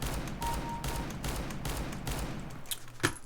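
R8 Revolver firing rapid right-click shots in CS:GO, a quick run of about seven evenly spaced gunshots at close range, followed by a softer click and a final sharp report.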